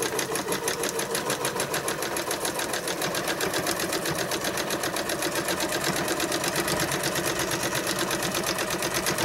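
A sewing machine stitches fabric while free-motion quilting swirls, running as a steady, fast, evenly pulsing rattle close by for the whole stretch, with no talk over it.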